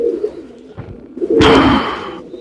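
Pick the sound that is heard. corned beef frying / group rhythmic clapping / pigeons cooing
pigeons cooing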